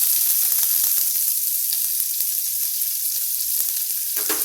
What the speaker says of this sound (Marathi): आता हा लांब लांब चिरलेला कांदा आपण यात घालून घेणार आहोत